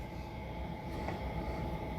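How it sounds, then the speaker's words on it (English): A low, steady rumble of a train rolling along rails, continuous and moderately distant with no distinct clacks. "Katie and Kirsten were pulling a goods train to Oakwood"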